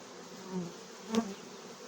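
Honeybees buzz around an opened hive during a honey check, a soft continuous hum with a couple of brief louder swells as individual bees fly close past.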